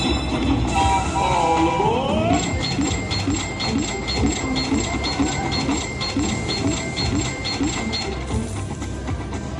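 Train sound effect from a slot machine's train bonus game in a casino. A whistle-like blare comes first, then a steady, rapid clatter of rhythmic clicks like wheels on rails, all over loud, continuous casino background noise.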